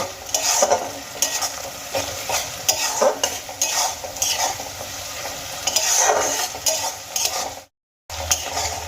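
Onion and grated ginger frying in a pan: continuous sizzling with frequent clattering spatula strokes against the metal, loud and close, with a brief cut to silence near the end.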